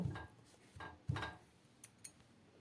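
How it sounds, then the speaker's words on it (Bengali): A metal cake pan filled with egg sponge cake batter is shaken by hand, giving three soft thumping jolts followed by two light clinks, close and fairly quiet with no talking. "ব্যাটারটা পাত্রের মধ্যে ঢেলে দিয়েছি। এরপর এটাকে একটু ঝাঁকিয়ে নেব।"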